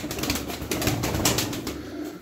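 Pigeons, including a smoky-coloured breeding bird, coo and shuffle nearby with bursts of wing flapping, a busy low murmur with no voices.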